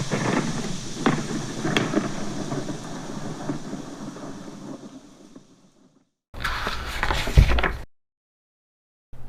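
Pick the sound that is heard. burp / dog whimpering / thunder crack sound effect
thunder crack sound effect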